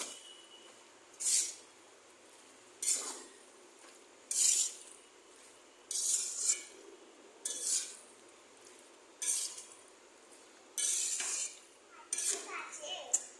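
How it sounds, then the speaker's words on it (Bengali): Pasta being stirred with a little soy sauce in a pan, with a utensil scraping and clinking against the pan in repeated short bursts over a quiet background. "দিয়ে এবার এগুলো ভালো করে মেশাবো।"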